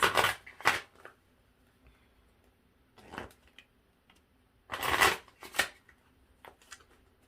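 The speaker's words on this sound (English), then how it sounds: "I always try to pay attention to how the cards shuffle" Tarot cards being shuffled by hand, several short crisp riffling bursts separated by pauses, close and fairly quiet with no talking.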